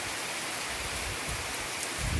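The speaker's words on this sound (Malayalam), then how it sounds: "വൈകുന്നേരം നല്ല അടിപൊളി മഴ പെയ്യുന്നു" Heavy rain pours down steadily, a dense, even hiss with no voices.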